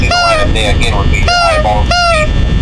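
Freddy's nose honk from the Five Nights at Freddy's video game: loud, close, goose-like squeaky honks repeated in quick bursts of about three, filling the short stretch.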